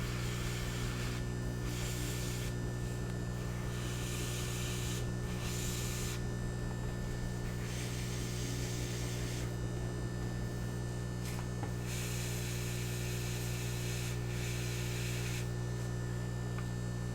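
A 3D-printed Behemoth model being spray painted: bursts of hissing aerosol spray come and go over a constant low electrical hum, close by and without talk.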